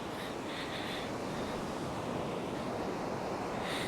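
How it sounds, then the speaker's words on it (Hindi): Ocean waves wash onto a clean sandy Moroccan beach in a steady, close surf roar with light wind noise across the microphone and no voices. "सुकून से इन लहरों को देख सकता हूँ।"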